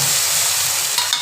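Ground coriander and chilli paste, thinned with a little water, sizzles loudly in hot oil over fried onions while a spoon stirs it, a close, continuous hiss with a light scrape near the end.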